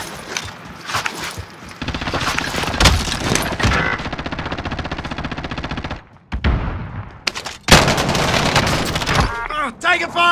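Gunfire in the Warzone battle royale game, sustained bursts of automatic weapon fire in loud, close stretches broken by short pauses, with shouted voice chatter and game callouts over the shooting.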